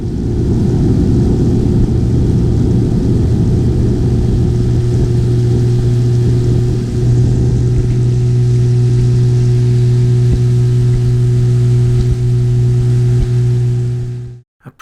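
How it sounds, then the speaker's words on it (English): A boat engine running steadily on shallow coastal water, a loud, close, droning hum with a constant low pitch that holds for the whole stretch and then cuts off abruptly at the end, no talking. "it's time to try the engine again"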